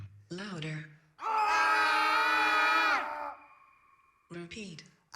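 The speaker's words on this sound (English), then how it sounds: "Scream louder." Performers at an electronic arts event let out a loud, sustained scream lasting about two seconds, framed by shorter vocal bursts before and after, with a lingering tonal hum as it fades.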